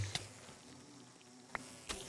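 Minecraft bees in the All The Mods 10 modpack, a faint continuous insect buzz with a few soft tapping sounds, quiet and without talking.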